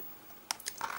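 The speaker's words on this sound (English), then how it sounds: "Typing with one hand here on one of these old awkward things." Someone types one-handed on an old computer keyboard, a brief cluster of a few close clicking keystrokes in a quiet room.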